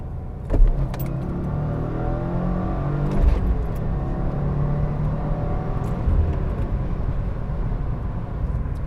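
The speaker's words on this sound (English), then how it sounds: "oh, there's a lot of road noise" A car driving on snowy, icy roads produces a steady, loud roar of road and tire noise from inside the cabin, with a few rattles and jangles on top and no talking.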